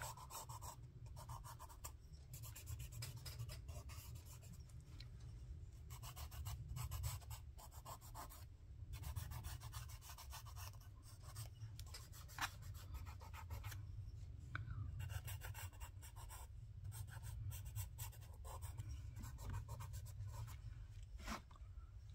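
Fingers rub drawing medium into paper on a mixed-media art page, producing a faint, close, continuous scratchy rubbing with quick irregular strokes and no talk.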